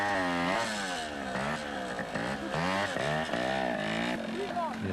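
A trials motorcycle in a 1984 junior kickstart event revs hard, its engine pitch rising and dropping repeatedly as someone commentates over it.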